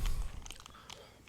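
Someone chewing a mouthful of crunchy organic peanut butter, a few soft crunches and wet chews close to the mic, with no voices.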